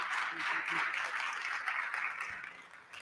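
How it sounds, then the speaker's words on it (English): A conference audience gives a round of applause for Mark, steady mid-level clapping that carries on throughout and tapers slightly near the end. "let's give a big round of applause to Mark"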